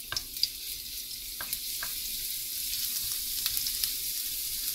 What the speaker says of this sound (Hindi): तेल गरम होने पे हम इसमें डालेंगे जिंजर एंड गार्लिक ग्रेटेड किया हुआ, हल्का सा इसे सौते कर लेंगे